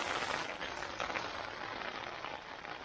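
Steady rain falls on a tent at a backcountry campground near Robson Pass, making a dense, even patter that fills the whole stretch with no talking.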